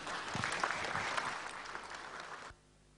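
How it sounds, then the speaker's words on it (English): Conference audience in a hall applauding a NASSCOM director coming up to give the welcome address, a dense round of clapping that holds steady and then cuts off abruptly into near silence. "let's invite him with a huge round of applause"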